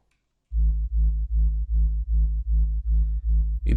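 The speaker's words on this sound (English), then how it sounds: "First one is this sub layer" Sub bass layer made with Thump One for hard techno, eight deep rounded low notes in a steady even rhythm with a softened attack, loud and alone after a brief silence.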